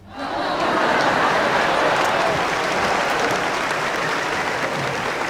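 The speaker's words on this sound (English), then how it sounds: "Would the people in the cheaper seats clap your hands?" Audience in the cheaper seats of a concert venue clapping, a dense, steady burst of applause rising quickly and sustained throughout, with a faint crowd murmur beneath.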